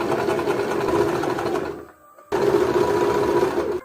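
A sewing machine stitches a patchwork sweatshirt with a loud, close, steady mechanical whir. It pauses briefly midway, then starts again at the same rapid pace.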